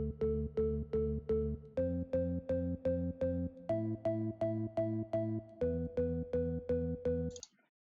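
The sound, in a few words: M1 organ pattern with low filter automation off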